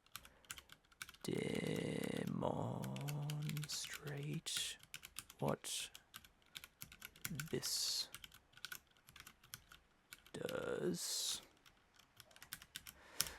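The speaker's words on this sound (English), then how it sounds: "So I'm typing pretty slow" Keys on a programmable split computer keyboard are typed slowly in irregular clicks and taps, close and quiet, while a person talks and hums intermittently over them.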